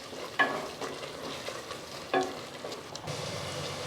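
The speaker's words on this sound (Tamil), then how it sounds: "2 டேபிள் ஸ்பூன் அளவுக்கு எடுத்திருக்கேன், அதையும் இப்போ இதில் சேர்த்துக்கிறேன்." Ginger garlic paste fries with onions in a pan for biryani, sizzling steadily up close, with two sharp stirring clacks and scrapes and no talking.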